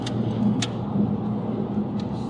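A Subaru cruising at about 100 km/h while new rear brake pads are bedded in, a steady close cabin hum of engine and road noise with a few faint clicks.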